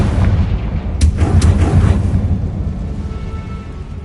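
The Confringo blasting spell in the video game Hogwarts Legacy, a deep rumbling boom with sharp cracking bursts that swells and then slowly fades into a low roar.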